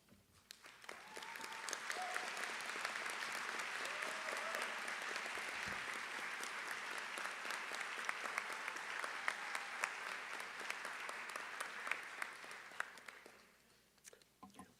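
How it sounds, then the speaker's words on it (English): A college of the arts commencement audience gives sustained applause for students graduating with honors, a broad, even roar of many hands that swells, holds for over ten seconds, then fades out. "please stand and receive our applause"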